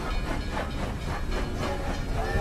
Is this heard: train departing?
yes